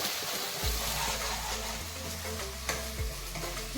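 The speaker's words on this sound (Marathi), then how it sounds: "याला तेल सुटेपर्यंत आपण छान असा हा मसाला भाजून घेऊया" Fish curry masala fries in oil in a pan, with a dense, loud sizzle and occasional stirring scrapes and clinks.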